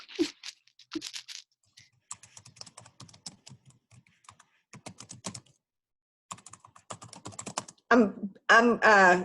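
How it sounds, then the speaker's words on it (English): Fingers type on a computer keyboard in quick irregular bursts of crisp close key clicks separated by short pauses, followed at the end by someone talking. "This is my typing thing. This is what I do when I type for work."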